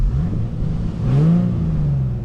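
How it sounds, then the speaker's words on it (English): Stock-exhaust Infiniti G37 engine giving a short rev, a mid-pitched rising then settling engine note heard close and fairly loud, with no talking. "Let me give you a couple revs."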